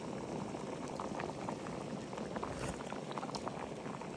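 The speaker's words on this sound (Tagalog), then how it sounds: "Yan, medyo kumukulo na siya." A pot of ginataang bilo-bilo, a coconut milk dessert, bubbles and boils steadily at close range, with soft popping and gurgling throughout.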